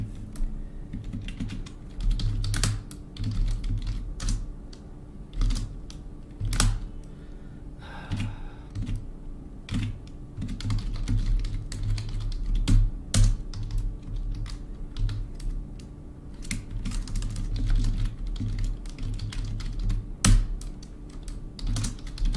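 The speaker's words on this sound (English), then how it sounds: "I'm nervous just typing this stuff." Rapid typing on a computer keyboard, with fast irregular clicks and keystrokes running steadily under a low background hum for the whole stretch, close and moderately loud.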